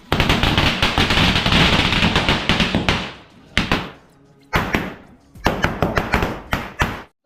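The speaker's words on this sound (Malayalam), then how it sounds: "ഒരു മാലപ്പടക്കം പൊട്ടിക്കില്ല, അത് നിർബന്ധമാണ്" A long string of firecrackers bursts loudly in rapid, crackling succession during a Vishu celebration near Guruvayoor in Kerala. After three seconds the crackling breaks into scattered separate bangs with short pauses between them.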